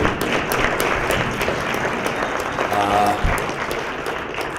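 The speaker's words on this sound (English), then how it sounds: "I'd like to please give the speakers and panelists an applause" Audience at an industrial technology panel applauding speakers and panelists, a continuous dense round of clapping with some distinct nearby claps, lasting the whole stretch.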